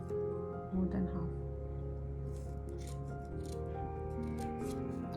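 Scissors snipping through folded crepe paper while making paper carnations, a few soft crisp cuts under a steady musical background with a person talking over them.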